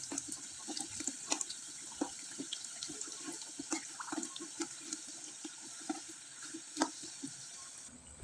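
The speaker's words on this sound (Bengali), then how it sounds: "আমি একটু সময় নিয়ে এই পিঠাগুলো একবারে মুসমুসে করে ভেজে নিব।" Rice flour and cumin pitha deep-frying in hot oil, a steady close sizzle with dense crackling pops and spatters throughout, no talking.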